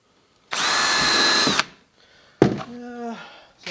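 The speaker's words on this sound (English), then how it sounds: "so I have a 3/32 inch drill bit, because you need a drill bit that's a little bit smaller than the screw" A power drill bores a pilot hole with a 3/32 inch bit into a small 3/4 by 3/4 inch wood piece for a screen bottom floor, one loud sustained whine that stops, then a short second burst spinning up and winding down.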